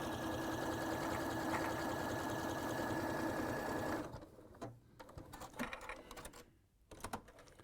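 A sewing machine runs a steady, loud stitching whir for about four seconds, then stops, leaving quieter intermittent mechanical clicks and rustles.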